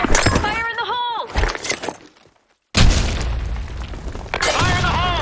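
A grenade blast in a first-person shooter, a sharp booming burst with shattering debris, followed by a short silence and further noisy crashes, with voices shouting over the action.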